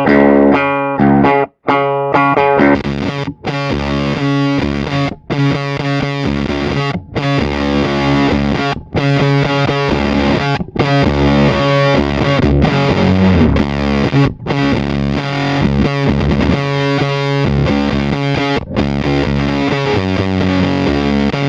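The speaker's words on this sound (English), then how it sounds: "turn some knobs and show you what the Woolly Mammoth sounds" A ZVEX Woolly Mammoth bass fuzz pedal driving a thick, heavily distorted bass tone, played as a loud continuous riff with short breaks between phrases, alone without any talking.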